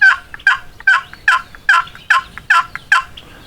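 A Beaver Creek Rubber Necker turkey call imitates a tom's gobble, producing eight quick, evenly spaced rattling bursts, loud and close, with nothing else heard.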